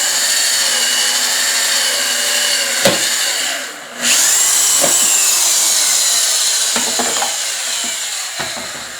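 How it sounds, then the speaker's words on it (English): A power drill whines steadily as it drills through a canister filter part, the motor pitch dipping and recovering, with a few sharp knocks and clicks along the way. "and then drill it"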